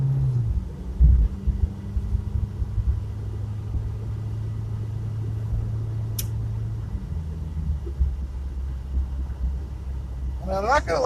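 A little Chevrolet Chevette driving along, heard from inside the cabin, with a steady low engine drone and road rumble throughout and a brief higher whine near the end.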